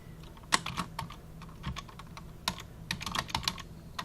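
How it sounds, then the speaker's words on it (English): Someone types a password on a computer keyboard, and the keys give quiet, irregular clicks in small bursts, close up in an otherwise still room. "we'll type in a password here"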